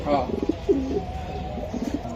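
Racing pigeons for sale coo in soft, low rolling calls from a loft, close by, while someone talks over them.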